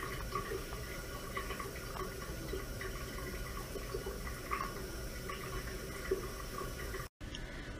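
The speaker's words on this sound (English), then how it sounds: "This Motion activated sink just turned on by itself." A motion-activated sink in a hospital room runs water in a steady, soft hiss with faint splashing, continuing alone until a brief cutoff near the end.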